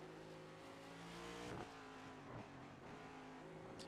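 NextGen race car lapping COTA West in the iRacing sim: a loud, steady engine drone whose pitch rises and falls through gear changes, with a brief rough scrape midway.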